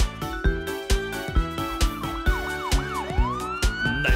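Police car siren wails and whoops rapidly over a bouncy children's song with a steady beat, the siren sweeping up and down prominently in the mix.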